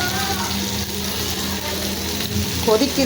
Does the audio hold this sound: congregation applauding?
no